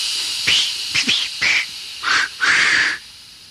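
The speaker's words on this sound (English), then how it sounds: "And all three engines let off steam in a cheeky way." Several short bursts of hissing steam from three steam locomotives in an engine shed, at an uneven rhythm, fairly close and loud, with brief quiet gaps between them.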